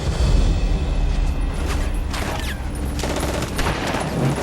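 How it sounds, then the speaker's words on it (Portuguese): Gunfire from a D-Day battle reenactment on the beach rolls in a dense, loud, continuous barrage of cracks and rumbling booms with no pauses. "Continuem atirando! Continuem!"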